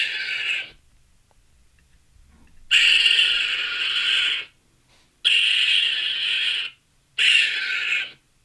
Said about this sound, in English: Yeah, that's the raccoon.